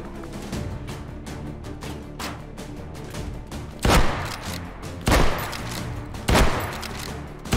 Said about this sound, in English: Hey, more shooting.